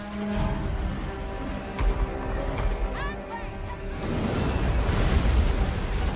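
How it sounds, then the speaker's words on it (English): Hellstorm rocket battery volleys pounding a melee block in Total War: Warhammer, a rolling mix of booms, bursts and battlefield din that grows heavier toward the end. "There's lots of Hellstorm rocket battery fire hitting our melee block here"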